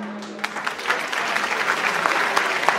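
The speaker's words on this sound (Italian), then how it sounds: "Un applauso." Audience applause on the first evening of a Miss Parade beauty pageant, a continuous wash of many hands clapping, fairly loud, with a few sharper claps standing out near the front.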